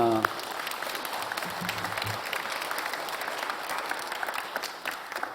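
A large church congregation claps together in sustained, dense applause that holds steady throughout, with a voice briefly heard at the start.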